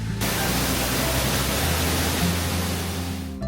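Giessbach Falls in Switzerland roars as a steady, loud, unbroken rush of falling water close by, with no voices.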